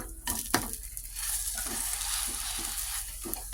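Bread batter sizzles steadily in a frying pan, a bright continuous hiss, with a couple of sharp scrapes and knocks at the start as it is flipped over.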